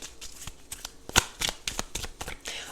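Tarot cards being shuffled by hand during a reading, a quick series of crisp riffling snaps and soft slides repeating in irregular bursts, close and clear with no talking.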